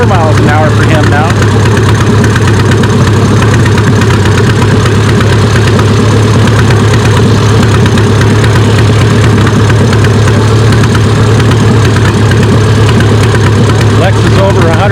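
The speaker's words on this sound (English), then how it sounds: "Got Ryan Grape on the Massey 44 diesel again" A Massey 44 diesel tractor pulls a weighted sled at a tractor pull. Its engine drones loud and steady under a distorted announcer's voice, with crowd noise around it.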